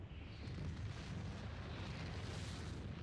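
A pillar of fire attack in Final Fantasy XIV, during a fight against Shiva, roars as a steady, loud, rumbling blast of flame that holds for about three seconds with no talk over it.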